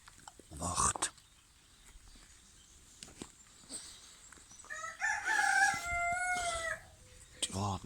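Roosters crow loudly and nearby in a chicken coop, one long cock-a-doodle-doo in the middle and shorter calls at either end, with soft clucking and faint rustling between.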